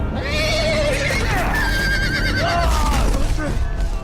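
A horse whinnies shrilly in a Game of Thrones video game, rising and falling, over a constant wash of loud background noise with voices mixed in.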